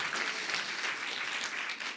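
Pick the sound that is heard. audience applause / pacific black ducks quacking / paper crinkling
audience applause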